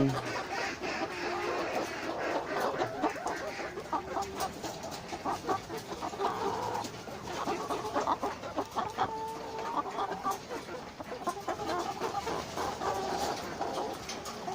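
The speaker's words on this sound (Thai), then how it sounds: "ตอนนี้เลี้ยงไก่มาตั้งแต่แรกเกิดจนถึง 20 สัปดาห์นะครับ ก็ไก่ก็ให้ไข่นะครับ" Brown laying hens about 20 weeks old cluck continuously, forming a busy poultry-house chorus of overlapping calls with steady background noise.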